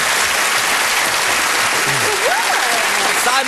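Studio audience applause on a British television panel show, a dense sustained wash of clapping filling the whole stretch with a voice briefly audible underneath.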